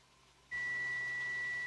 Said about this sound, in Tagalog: Buzzer sound nga natin.